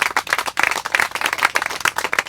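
A brief burst of dense applause from the audience at a public election meeting, greeting a union delegate from Alstom: many hands clapping together loudly for about two seconds.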